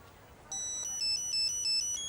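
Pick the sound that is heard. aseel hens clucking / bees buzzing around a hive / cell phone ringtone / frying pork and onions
cell phone ringtone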